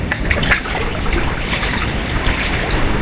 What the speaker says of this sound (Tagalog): papasok na naman ng tubig. Ano, ang lakas oh